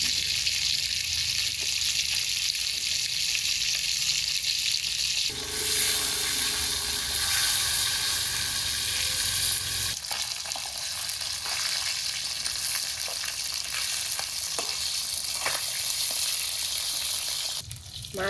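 Shingi fish frying in hot oil in a wok, a continuous close sizzle and crackle with brief shifts in intensity as pieces are moved, with no talking.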